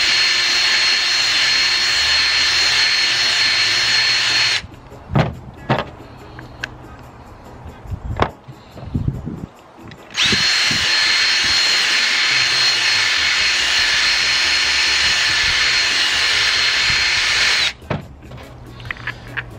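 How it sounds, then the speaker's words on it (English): An electric drill whines steadily while enlarging a hole for a homemade ghost shrimp pump, running in two long, loud, close bursts separated by a quieter stretch with clunks and handling noises. "Put the drill bit in here, kind of move it around a little bit and make that hole slightly larger than 1/4 inch."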